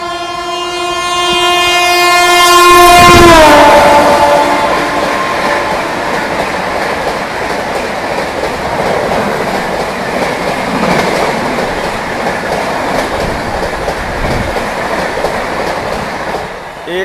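A Bhubaneswar Tejas express rushes past at speed with a loud, near horn blast that slides downward in pitch as it passes, followed by a sustained rumble and rhythmic clatter of wheels on rails.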